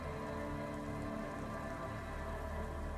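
Steady rain over a wave-crossed bay in Disco Elysium, a continuous dense patter with no distinct drops and no voices.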